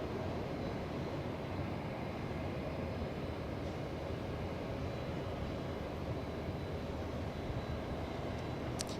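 United Airlines flight 38 from Tokyo Haneda arriving at Los Angeles International Airport, a steady, broad jet roar holding loud and unbroken throughout, with no voices.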